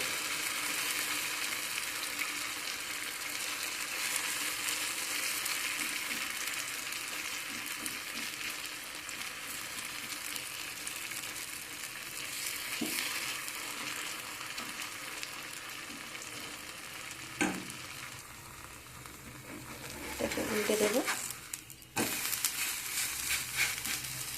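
Vegetable paratha frying in oil on a pan gives a steady, dense sizzle throughout, with a louder scraping, stirring burst near the end.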